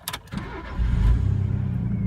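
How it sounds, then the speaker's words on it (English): A manual-transmission car engine is started: a short burst of cranking, then the engine catches and settles into a steady, fairly loud idle, with no voices. "Now that you have both the clutch disengaged and the brake engaged, you can proceed to start the engine,"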